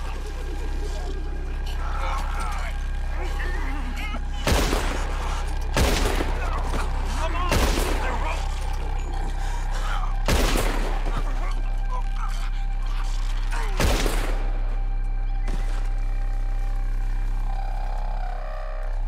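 Gunfire in Red Dead Redemption 2 during a shootout, with single loud shots cracking every couple of seconds over a steady low drone, and a character shouting between them.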